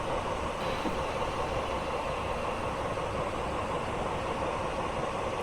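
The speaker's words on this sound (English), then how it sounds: "slowing the train down." A passenger train slowing down on the North Wales Coast Line from Crewe to Holyhead in Train Simulator, with a steady rumbling roar of wheels and engine, continuous and close, with no voices.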